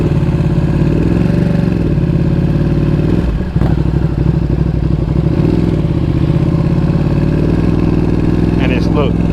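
A 2020 Ducati Panigale V2 fitted with a slip-on exhaust runs at barely open throttle at low speed, giving a loud, steady, throbbing engine note with a brief dip in the middle.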